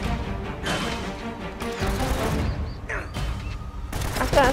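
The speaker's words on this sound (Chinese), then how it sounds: "觉得枪声蛮近的，我要小心。" Gunfire in the video game Uncharted, bursts of rapid shots and booms in a firefight, fairly loud and continuous with sharp cracks and crashes layered over background game sound.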